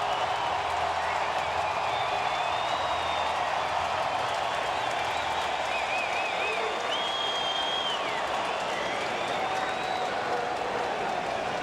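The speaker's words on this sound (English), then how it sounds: "here comes the crowd again" A large baseball stadium crowd at a Cardinals at Reds game roars and applauds steadily, broad sustained cheering with whistles, while a commentator talks over it.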